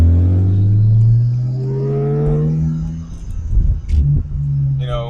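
A BMW Z4 Coupe fitted with Bilstein suspension accelerates nearby, its engine droning and climbing in pitch before settling into a rough rumble with thumps and a brief whine near the end.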